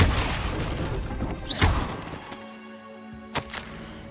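A fire spell blasts off in Hogwarts Legacy with a loud whooshing boom, then quieter magical crackle and a sharp final burst fading out.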